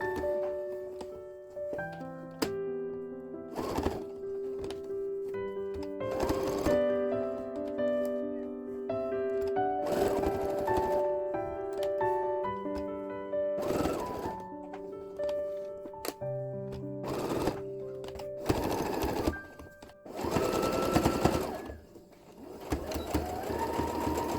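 A sewing machine runs in bursts, stitching lace trim onto a pillowcase, its rapid mechanical whir starting and stopping several times with clicks and handling noises between runs, close and fairly quiet.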